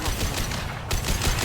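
Rapid gunfire in the Mass Effect Legendary Edition video game, a loud dense burst of overlapping shots with a brief lull in the middle.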